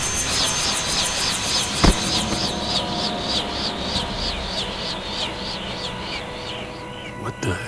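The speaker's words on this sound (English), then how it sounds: "Like a remote control helicopter?" A video game helicopter's rotor chops steadily with a whining engine tone, loud and sustained, with a sharp bang partway through and at the end.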